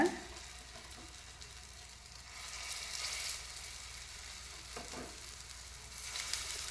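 Potato patties for ragda chaat fry in about two spoons of ghee on a hot tawa, giving a soft, steady sizzle with occasional stirring or scraping touches.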